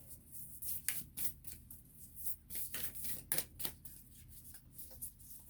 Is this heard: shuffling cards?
yes